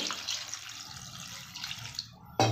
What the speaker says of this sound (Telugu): తగినంత వాటర్ వేసుకొని